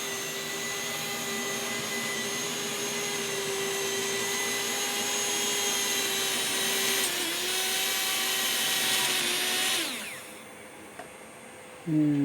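The small motor of a model railroad vacuum car runs on track, a steady whining hum with a droning tone. It holds for about ten seconds, then cuts out, leaving near silence before a short noise at the end.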